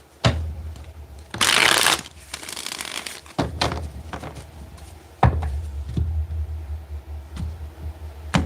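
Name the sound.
shuffling tarot cards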